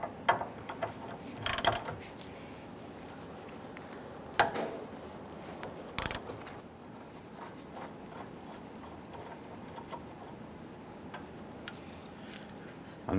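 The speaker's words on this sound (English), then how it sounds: "loosen and remove this nut." A socket wrench loosens a rear sway bar link nut on a 1995-2001 Ford Explorer, giving faint, close ratcheting ticks and a few sharper clicks that fade into quiet background noise.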